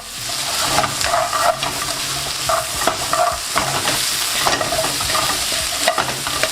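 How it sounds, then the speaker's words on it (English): Onions, Napa cabbage and fresh kale with light soy sauce and black pepper sautéing in a pan for chicken chow mein: a steady loud sizzle runs throughout, broken by repeated scraping stirs of the spatula. "You want to lightly saute these with the Napa cabbage, fresh kale, and some of this light soy sauce, black pepper."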